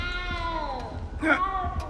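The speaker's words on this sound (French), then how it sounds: "N'aie pas peur, petit chat." A small cat in the video game Hogwarts Legacy gives a short meow, close and fairly clear, over soft game background sound.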